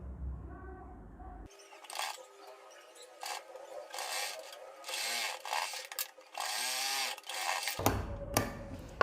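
A sewing machine stitches a blouse in uneven bursts of running and pausing, close by, with a voice heard briefly at the start and end.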